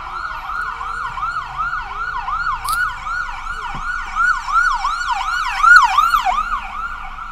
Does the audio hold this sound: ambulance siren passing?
yes